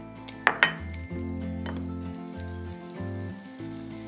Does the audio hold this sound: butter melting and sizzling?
yes